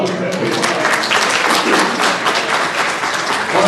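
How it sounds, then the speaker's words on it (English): A crowd at a chamber of commerce end-of-year party gives a loud, continuous round of applause. Dense clapping fills the room for several seconds with no break. "give them a round of applause, everyone"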